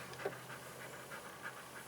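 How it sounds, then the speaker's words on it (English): A border collie pants rhythmically nearby, quick soft breaths repeating in a steady pattern against a quiet background. "This is the panting you're hearing in the background of this video."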